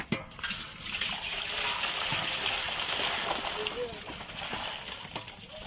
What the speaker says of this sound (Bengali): আস্তে আস্তে এই গামলিতে পানিটা ঢাললাম